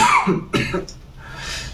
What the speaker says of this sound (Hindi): थोड़ा सा खांसी हो गया है।